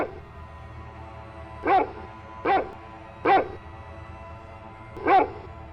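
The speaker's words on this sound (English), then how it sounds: "The woman's dog begins to bark in the back seat." A dog barks four times at irregular intervals, fairly close, with low background rumble between the barks.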